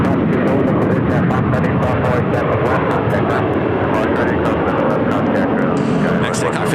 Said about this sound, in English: Next takeoff is Southwest Airlines Flight 1649 heading to Baltimore, Maryland at a 737 at max 8.